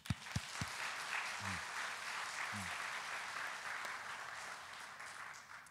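A church congregation applauding, with steady clapping throughout and a few distinct louder claps near the start.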